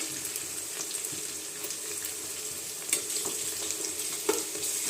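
Sliced onions fry in a pan of oil, giving a soft, steady sizzle with scattered crackles and occasional louder pops, fairly quiet and with no voices.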